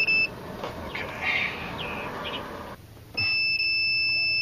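Multimeter on continuity mode during a fuel pump check on a Mazda 626, sounding a steady high electronic beep at the start and again for over a second at the end, clear and close.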